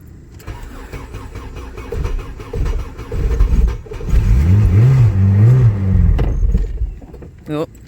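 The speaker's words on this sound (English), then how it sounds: "You gotta rev it up, otherwise it won't idle at all." A built LSVTEC turbo engine running on E85 fires up cold and is revved repeatedly, rising and falling in loud surges that climb and drop in pitch, with someone talking briefly near the start.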